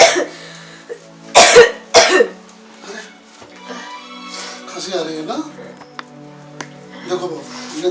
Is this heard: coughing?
yes